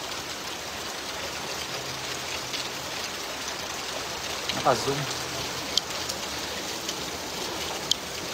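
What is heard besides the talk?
heavy rain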